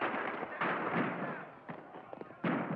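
Battle gunfire in a 1965 period film: several booming shots and crackling blasts in quick succession, dense and moderately loud, with a voice faint beneath.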